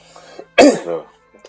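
A single sharp cough, close and loud, followed by a brief throaty rasp, with faint quiet sounds before and after.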